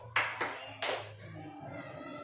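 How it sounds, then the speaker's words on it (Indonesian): Hand claps in a school setting ring out sharply and close, three distinct claps evenly spaced, each with a short room echo, over a low background hum. "Kita hanya akan bertepuk 1 sampai 5."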